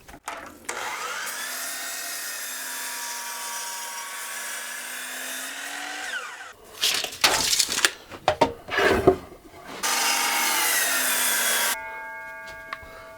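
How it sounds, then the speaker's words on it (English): A power saw runs steadily for several seconds, then bursts of rough cutting noise as wood for window frames is cut to length, followed by another sustained whine of the saw. "and then I'll cut it to length."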